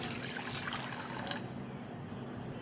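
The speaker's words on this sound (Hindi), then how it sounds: "1 कप विनेगर" Vinegar poured into a pan of water for a pickling brine, a continuous liquid splash and trickle that thins out after about a second and a half, with no talking.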